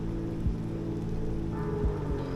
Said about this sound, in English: it's starting to rain pretty good out here